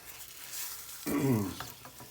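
A Flamin Hot Cheeto omelette with cheese is flipped in a frying pan, bringing a sudden loud sizzling burst halfway through after a quieter stretch, then fading back down.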